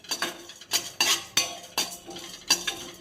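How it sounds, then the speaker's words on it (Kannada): A spoon stirs chana dal and urad dal frying in a pan, producing repeated scraping and clinking strokes in a steady rhythm with a faint sizzle underneath, close by. "ಗೋಲ್ಡನ್ ಕಲರ್ ಬರೋವರೆಗೂ ಸ್ವಲ್ಪ ಫ್ರೈ ಮಾಡ್ಕೊಳ್ಳೋಣ"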